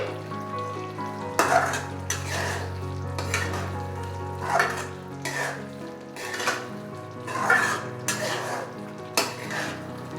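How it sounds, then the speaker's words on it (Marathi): Okra with half a glass of water being stirred and cooked in a pan for dhaba-style dahi bhindi, a steady sizzle broken by repeated scraping stirs of a utensil against the pan, close and fairly loud with no talking. "त्यामध्ये अर्धा ग्लास पाणी टाकून चांगली मिक्स करून थोडा वेळ शिजवून घेऊ."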